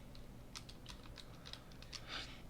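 Faint, quick taps of calculator buttons being pressed in a short run of about a dozen soft clicks, set against a low steady background hum.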